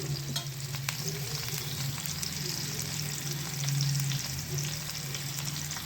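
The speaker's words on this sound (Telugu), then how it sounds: "ఇప్పుడు ఆన్ చేసి కరివేపాకు వేసుకొని కరివేపాకు సగంగా వేడెక్కుతుంది సో ఇది బాగా ఫ్రై చేసుకోవాలి" Curry leaves frying in hot oil give a dense, steady sizzle with crackling pops and a low hum, swelling slightly toward the end.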